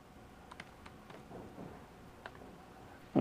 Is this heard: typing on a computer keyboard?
yes